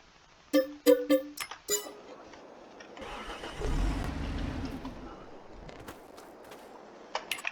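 A Case Maxxum tractor engine in Farming Simulator 22 starts automatically after a few sharp clicks, cranking into a low rumbling idle that swells and then settles, with scattered clicks and knocks around it and no speech.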